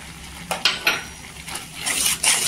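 A spoon stirring a spiced murabba mixture in a pot, giving a few irregular knocks and clinks against the metal with soft scraping between them, close by, with no talk.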